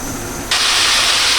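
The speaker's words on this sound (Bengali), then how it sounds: "এটা ভাজার কিন্তু অনেক শব্দ এর জন্য আমি চুলাটা অনেক কমিয়ে দিয়েছি" Ginger, garlic and onion paste frying loudly in a pan, a sudden burst of harsh, broad sizzling hiss that starts midway and holds steady, close and loud.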